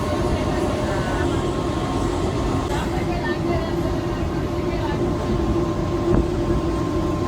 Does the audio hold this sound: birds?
no